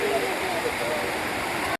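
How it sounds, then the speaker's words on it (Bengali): Sea waves at Digha beach, near the river mouth, make a dense, continuous roar of surf throughout a short stretch that cuts off abruptly. "এখানের যা ঢেউ, তার তুলনায় এই পাশে ঢেউ অনেক কম"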